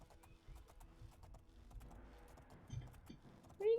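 Soft, quick hoof clip-clops from a horse trotting in The Elder Scrolls IV: Oblivion, faint and even, ending with a brief louder noise.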